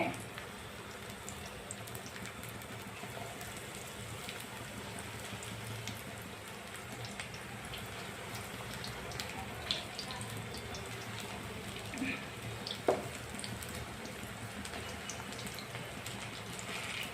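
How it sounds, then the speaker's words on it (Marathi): Small sprouted moth bean and mung bhajji frying in oil, a faint, steady sizzling hiss with scattered soft pops and crackles, continuing evenly throughout. "छोटे छोटे तळून घेणे"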